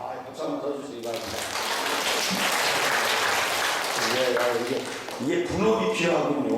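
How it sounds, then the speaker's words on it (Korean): A church audience breaks into loud, sustained clapping lasting a few seconds, with a person speaking just before and again as the applause fades. "박수 한번 더 주시기 바랍니다."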